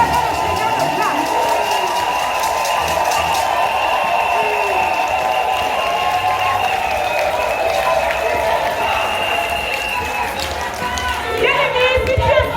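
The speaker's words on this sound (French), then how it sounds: "Je vais t'inviter à faire une ovation d'acclamation." Loud, sustained crowd cheering and acclamation at an open-air evangelism gathering in Oyem's Place de l'Indépendance, Gabon, a dense continuous roar holding steady throughout.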